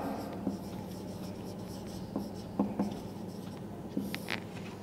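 A teacher's marker or chalk scratches out a math solution on a board in a quiet classroom, faint strokes in short separated bursts.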